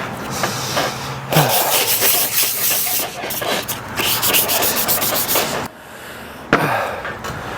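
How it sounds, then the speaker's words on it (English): A homemade bowling ball is sanded by hand with 500-grit sanding pads, giving loud, close, continuous scratchy rubbing strokes with brief pauses and shifts in pace. "It's a lot of work sanding a bowling ball without a spinner."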